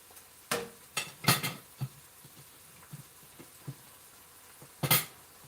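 Onions tipped into a metal pot for homemade chili and stirred, giving a few sharp clanks and scrapes of utensil on pot with quieter taps between, close up with no talk.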